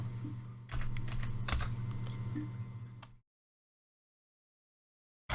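Rapid typing on a computer keyboard while entering an email address and a password, a dense run of close, crisp key clicks lasting about three seconds, then silence, then a brief click at the very end.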